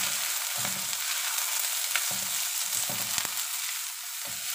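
Carrots stir-frying in a pan for a Hong Kong-style vegetarian dish with Chinese flowering chives, a steady close sizzle with soft rhythmic scraping and stirring knocks throughout.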